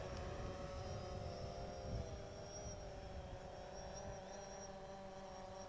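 A small consumer drone flies training circles, its steady whining rotor drone holding at an even, moderate level throughout with a faint tonal pitch wavering slightly, no voices present.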